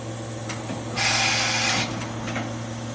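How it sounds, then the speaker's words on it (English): A Kitamura Mycenter 2Xi CNC vertical machining center runs its demo with a steady mechanical hum, then a louder, brighter whirring hiss swells for about a second before settling back. "So now we are going to give you the demo on the machine."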